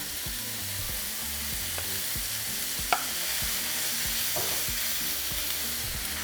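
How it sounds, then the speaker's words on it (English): Meat and vegetables for carne con chile sauté in a pan, a steady close hiss of sizzling oil with occasional clinks and scrapes of stirring, no talk. "We're going to be sauteing for a couple minutes"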